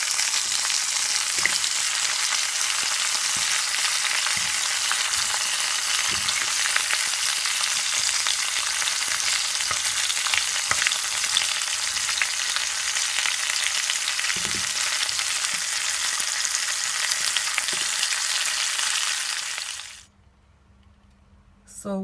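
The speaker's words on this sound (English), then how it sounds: "gonna leave it for 3 minutes to brown on each side" Cow foot browns in a hot pot for Jamaican-style cooking, giving a steady close sizzle and crackle that runs unbroken for about twenty seconds, then cuts out abruptly.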